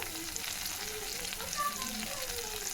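Spices and turmeric powder sautéing in a pan while cooking kochur loti (taro stolon), a steady, close sizzle and frying hiss with light stirring scrapes, no voices.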